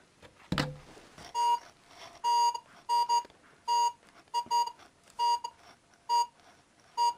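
Metal detector sounding while hunting for treasure in a gloomy attic: a run of repeated sharp electronic beeps, each brief and fairly loud, arriving in an irregular rhythm with short gaps between them, with no voice over them.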